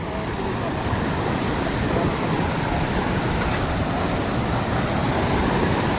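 A waterfall on a rugged hiking trail near Mount Pinatubo gives off a steady, dense roar of rushing water. It stays loud and unbroken for the whole stretch.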